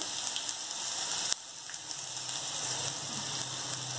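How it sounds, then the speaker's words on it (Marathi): Ground onion frying in a pan until brown for tomato rice, a continuous close sizzle with brief spatter and a sharp clink partway through. "कांदा जो आहे तो ब्राऊन कलर येईपर्यंत आपण तो भाजून घ्यायचा आहे।"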